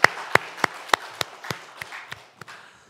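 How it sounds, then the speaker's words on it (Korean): A church congregation claps at a Sunday service in slow, evenly spaced single beats, about ten in all, each crisp and a little softer than the one before. "우리 하나님 앞에 영광의 박수 올려드리겠습니다"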